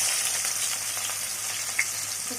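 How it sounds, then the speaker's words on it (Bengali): Chopped onion sizzles steadily in hot leftover fish oil in a pan, a close, even hissing fry with a single small pop partway through and no talking. "তেলটা যখন আগের থেকে গরম ছিল, তাই আমি এই তেলের মধ্যে পেঁয়াজ কুচি দিয়ে দিচ্ছি।"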